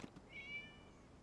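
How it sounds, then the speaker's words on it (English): A single short cat meow from the video game Genshin Impact, faint and brief over a low background hum, with no talking. "It was just a cat."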